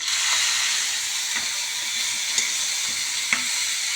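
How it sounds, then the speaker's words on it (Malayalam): Rice frying in a pan with spinach leaves added, a steady hissing sizzle close by, broken by a few light clicks of a utensil against the pan. "അരിയൊന്ന് നന്നായി മൊരിഞ്ഞ് വന്നാൽ ഈ ചീര നന്നായിട്ടൊന്ന് ഇതിലേക്ക് ചേർക്കുക"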